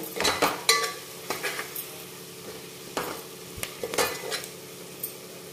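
A spoon scrapes and clinks against a pan as turmeric and red chili powder are stirred into sizzling oil, with irregular metallic knocks over a soft steady fry.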